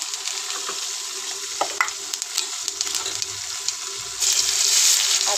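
Cumin seeds sizzling in hot oil in a pan while being stirred, a close, steady crackling hiss with scraping touches and a brief burst of louder sizzle near the end.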